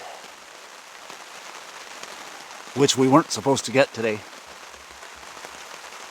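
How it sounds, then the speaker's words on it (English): Steady rain patters on a campsite, with a soft continuous hiss of drops throughout and a person speaking briefly over it midway. "As soon as I got up the hill, this rain started,"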